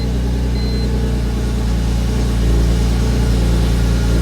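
BMW E46 M3 with a new S54 engine running, a loud steady engine drone with a constant low hum that swells slightly about halfway through.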